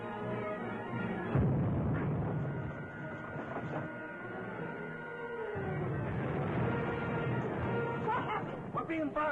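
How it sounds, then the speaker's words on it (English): Bombs dropped on a surfacing submarine burst in a 1940s radio drama, a dense, rumbling barrage of loud blasts with one heavy impact near the start and a second surge midway, all close and continuous. "We're being bombed."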